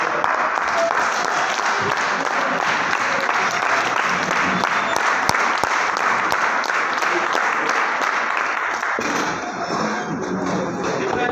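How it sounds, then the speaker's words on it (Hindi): An audience at a mindset training seminar in Lonavala applauds continuously, dense steady clapping that holds at an even loudness and eases slightly near the end. "साथ में खड़े होकर ताली बजाना चाहिए"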